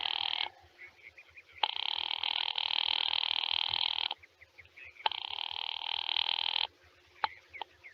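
A telephone rings on the line in three long bursts separated by short pauses, loud and steady, with a couple of faint clicks near the end and no voices.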